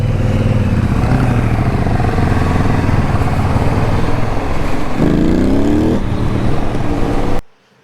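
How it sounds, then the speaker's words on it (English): A CF Moto NK SP motorcycle with its stock exhaust runs loud and close, a steady rumbling drone with a rising rev sweep near the end before cutting off abruptly. "Is that the stock exhaust?"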